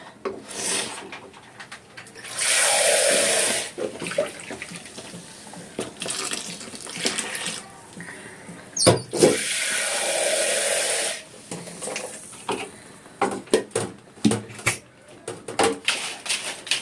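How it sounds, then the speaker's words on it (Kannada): Water is poured into a mixer jar for paneer kurma masala, a loud rushing stream in two main bursts separated by clinks and handling noises of the jar. "ಮಿಕ್ಸಿ ಜಾರ್ಗೆ ಇವಾಗ ನೀರು ಹಾಕ್ಕೊಂಡು ಹಾಕ್ತೀನಿ ನಾನು"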